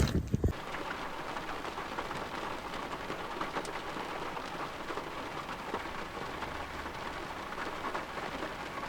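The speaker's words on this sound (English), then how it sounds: "I'm walking back in the rain." Steady rain falls on a walk back from fly fishing on a New Zealand river during a summer storm, a dense, constant hiss of drops hitting surfaces all around, with no voices.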